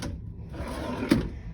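A cabin drawer on the Royal Caribbean cruise ship Anthem of the Seas slides open or shut, a soft low rumble ending in one faint knock, heard close in a quiet room.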